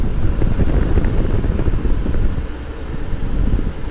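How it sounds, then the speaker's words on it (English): Strong wind buffeting a truck, a loud, continuous roaring rumble pressing against the cab with steady gusts and no voices over it. "All of the wind."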